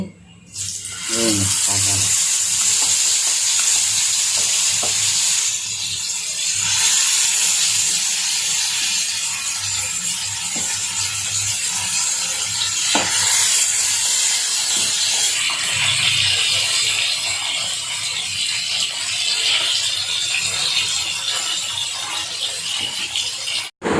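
Marinated fish hitting hot oil in a frying pan, a loud steady sizzle and hiss lasting the whole time, close and dense with brief spits and crackles.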